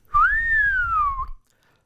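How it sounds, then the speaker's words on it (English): A man whistles one sustained, gliding tone lasting just over a second, clear and close, rising slightly then falling away, with a faint low rumble beneath and nothing after. "Then he whistled."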